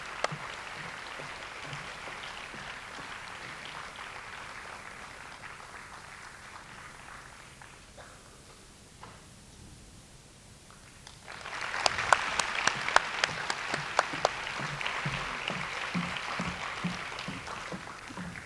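An audience at a 1991 university stage performance gives a round of applause. Scattered clapping fades to quiet, then a louder, sharper burst of claps rises and carries on to the end.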